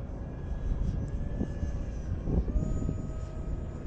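3D-printed F-16 model jet flying at less than half throttle, a steady motor drone with a faint whine, heard from a distance with small swells in loudness and no voices.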